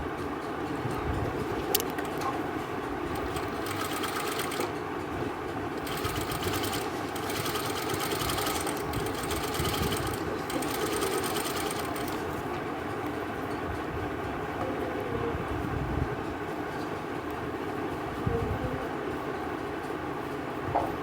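A sewing machine stitches a line over the gathers of a Naira-style suit, running in a steady continuous whir with brief changes in pace, loud and close.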